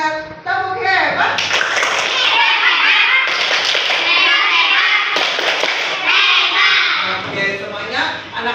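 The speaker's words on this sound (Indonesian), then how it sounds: "Kita tepuk hebat dulu kalau sudah menjawab dengan benar." Children doing a rhythmic 'tepuk hebat' clapping cheer in a primary school classroom, loud dense claps with young voices chanting along throughout.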